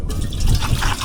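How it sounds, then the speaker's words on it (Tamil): Water pours steadily into a cooking pot at an outdoor village kitchen, a short, close gurgling splash filling the vessel. "இப்போ தண்ணி ஊற்றிட்டுருக்கோம்."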